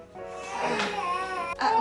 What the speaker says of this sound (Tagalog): napapasok ako kasi umiiyak yung bata eh